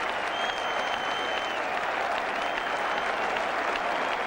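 Thousands of cricket spectators applaud a Botham wicket at an Ashes Test, with steady dense clapping and cheering that fills the whole stretch without pause.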